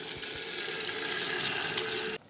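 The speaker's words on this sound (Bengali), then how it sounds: "কুকারটা ধুয়ে কিছুটা জল ডালটা মশলার সঙ্গে ফুটতে দিতে হবে তো তাই দিয়ে দিচ্ছি জল" Water poured from a pressure cooker into simmering dal, a steady splashing and gurgling pour that runs loud and continuous for about two seconds before cutting off abruptly.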